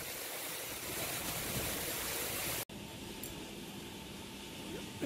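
Heavy rain driven by strong wind, a dense steady hiss that fills the whole clip, briefly cut off midway before resuming at a similar level.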